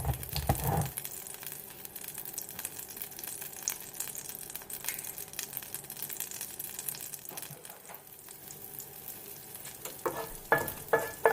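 Olive oil and butter sizzle steadily in a preheated skillet, a continuous close frying hiss with occasional crackles and pops, louder bursts near the start and end, no voices.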